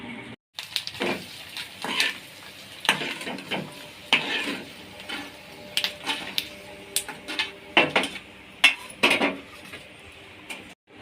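Thin, round potato wafers fry in hot oil. Irregular clattering and scraping of utensils sounds close and prominent over a softer bubbling sizzle, in uneven bursts with short pauses.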